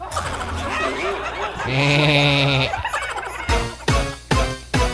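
One sustained, quavering goat bleat rises out of murky background noise and lasts about a second, followed by a few sharp knocks.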